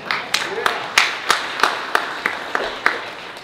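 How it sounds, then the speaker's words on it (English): Sparse, evenly spaced handclaps ring out in a steady rhythm at a small gathering, with a few faint voices underneath. "we need to give her a round of applause for staying with Jason for 71 years"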